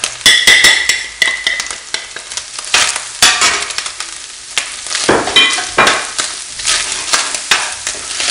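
Ground beef with chili powder, cumin, salt and black pepper sizzling in a pan, with loud repeated stirring scrapes and spatula knocks in an uneven rhythm over a steady fry, close, no speech.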